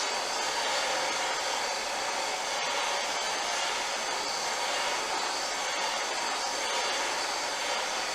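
Heat gun blowing hot air onto a rear upper control arm bushing during installation, a steady hiss-like roar held constantly and close, with no voices.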